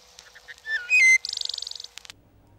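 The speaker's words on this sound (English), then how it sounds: "the wood thrush." Wood thrush song played as a recorded example: a few short whistled notes, then clear ringing pure tones, and a fast buzzy trill, ending in soft low rumble; loud and close, with no talk.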